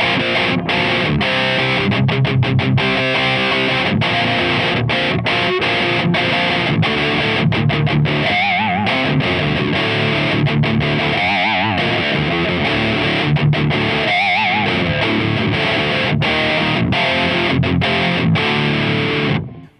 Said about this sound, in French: là on a juste la reverb, on a la green disto avec sûrement, voilà, un petit peu de tube screamer avant